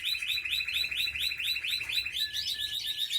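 Spanish Timbrado canary singing a rapid run of bright, repeated trilled notes close by, shifting into a thinner sustained whistle near the end, with no one talking.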